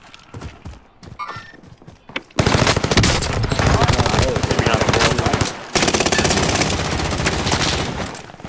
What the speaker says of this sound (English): Where the fuck is them bullets coming from?